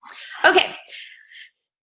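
A single sudden sneeze bursts out during a team call, sharp and close, followed by a short breathy tail and a brief spoken word.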